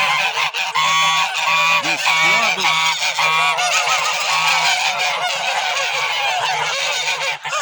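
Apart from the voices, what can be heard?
domestic geese honking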